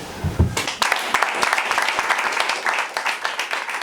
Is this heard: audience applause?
yes